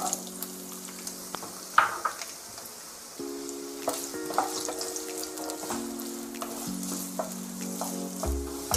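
Carrots frying in hot oil for a mixed vegetable dish make a constant close sizzle with bubbling crackles and occasional stirring scrapes and clinks, no voices.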